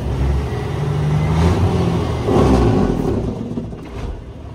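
A heavy Oshkosh truck engine idles and then revs up twice, rising and falling in a deep rumbling surge, close by with no talking.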